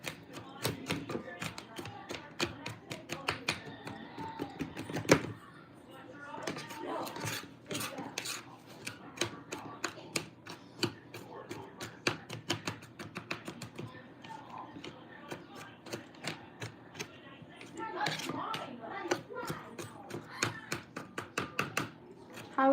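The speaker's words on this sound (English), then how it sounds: "so we're chopping the garlic really fine" Knife blade tapping rapidly on a cutting board while garlic is minced fine for a dinner of leftover prime rib and king crab legs, a steady run of close, sharp chops with brief pauses and a voice talking now and then.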